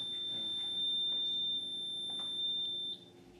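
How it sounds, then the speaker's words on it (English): A REM pod ghost-hunting device in a haunted Arizona ghost town sounds a steady high-pitched electronic alarm tone, loud and continuous for about three seconds before cutting off, with faint background hum. "the moment that I asked the questions, the REM pod alerted"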